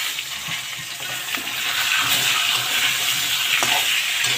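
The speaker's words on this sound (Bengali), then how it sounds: "আলুগুলো আমি এখন লাল লাল করে ভেজে নেব" Potatoes fry in a pan until browned, a close, continuous bright sizzle that swells slightly louder partway through, with no talking.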